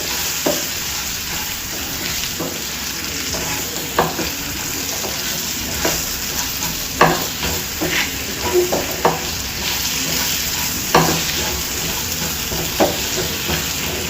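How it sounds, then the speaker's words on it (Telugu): Mango curry with chili powder and salt stirred in a pan, a steady sizzle punctuated by repeated spoon scrapes and taps against the metal, close and fairly loud, no talking. "ఇదంతా ఒకసారి కలిపేసుకోవాలి"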